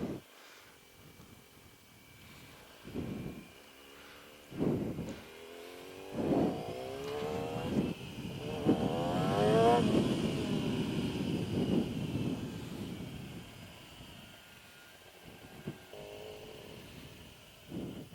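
Motorcycle doing a first-time burnout, its engine revving up and down in swells and holding a rising high whine, moderately loud amid steady background noise.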